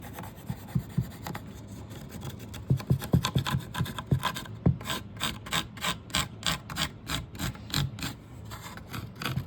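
Sandpaper sanding a radius into a wooden ukulele part, with steady back-and-forth strokes that start slow and irregular, then settle into a fast, even rhythm, close and clear with no talking.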